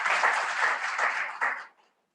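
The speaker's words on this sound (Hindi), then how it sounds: "आप प्लीज आप एक बार जोरदार तालियां बजा के विजय जी के लिए" Audience applause at a blood donation felicitation event in Jaipur, a short burst of dense clapping that holds briefly, then tapers and stops within two seconds.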